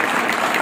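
Quick burst of clapping from a crowd at a school farewell party for a teacher, loud and dense, lasting under a second.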